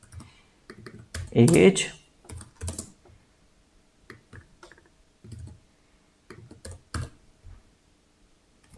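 Code typed on a computer keyboard in short, scattered runs of soft key clicks with pauses between them, while someone talks in brief bits over the typing.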